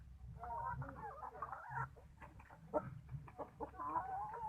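Chickens cluck and chatter continuously on a Thai mixed smallholding farm, a dense overlapping flock sound close by, with busy irregular calls filling the whole stretch and a low background hum beneath.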